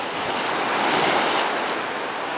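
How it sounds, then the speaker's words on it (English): Ocean surf on Miami Beach washes in a steady broad hiss, swelling slightly midway, with wind buffeting the microphone and no voices. "Nice waves today, nice water, sun, pretty cool."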